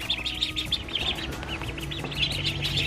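Baby ducks (ducklings) chirp in rapid, high-pitched peeps, a steady chorus of tiny calls repeating over low background noise.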